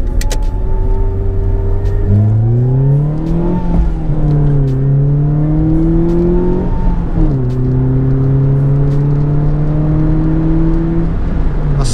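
A Ford Fiesta Mk5 Zetec-S heard from inside while pulling away hard, engine pitch climbing in close, loud sweeps with clear drops at each gear change through three gears, no speech over it.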